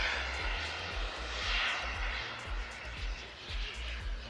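A model jet aircraft comes in slowly at a wing show, giving a faint, steady turbine hiss and whine at a distance with a low, continuous rumble underneath.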